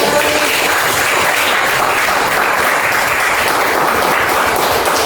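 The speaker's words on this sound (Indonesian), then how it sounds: "tepuk tangan untuk saya" Loud, dense applause from a classroom audience during a teaching practice session, a continuous roar of many hands clapping at a steady level from start to finish with no speech over it.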